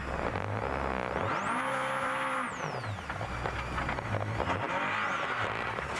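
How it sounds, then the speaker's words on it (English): A rally car at WRC Catalunya is restarted after a driver's mistake. The engine revs loudly and a high whine climbs and then falls away, with a rough, gravelly roar continuing close by. "precious seconds are ticking away as he gets the car restarted"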